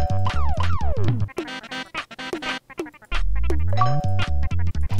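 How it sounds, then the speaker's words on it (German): Doorbell chime in the SNES game Mario Paint, bright synthetic ding-dong tones amid chiptune music and sliding electronic effects, loud and close. "Hat geklingelt, mach mal jemand auf."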